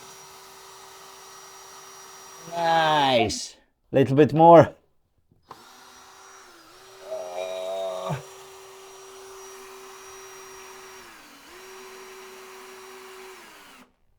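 A power drill whines in short bursts, rising and falling in pitch, with brief voices and a steady electrical hum in between.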